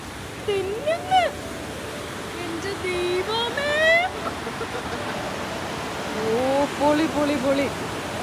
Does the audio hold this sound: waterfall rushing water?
yes